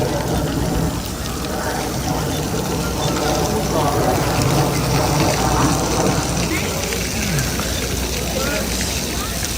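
Splash pad fountains in a city park hiss and spray steadily, a constant broadband wash of falling water, while someone talks over it and children play nearby.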